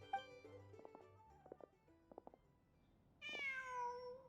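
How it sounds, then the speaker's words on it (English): A cat meowing in the Genshin Impact video game: a few short, soft chirping mews in a quiet setting, followed by one longer, louder, clear meow at the end. "Just a cat."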